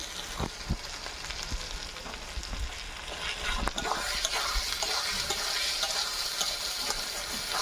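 Chicken curry with tomato, salt and a ground paste of cumin, coriander and dried red chili is stirred in a hot pan. Repeated spoon scrapes and clicks sound over a constant, close sizzle, with no speech.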